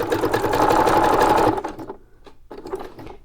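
A sewing machine stitching a corner on a fabric tag runs in a loud steady whir for about a second and a half, stops, then gives a short burst of stitches.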